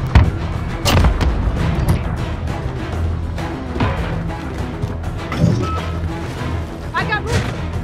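A grenade blast in Call of Duty Modern Warfare multiplayer: a sharp crashing boom near the start, followed by further thuds and gunfire amid in-game radio chatter and shouted voices.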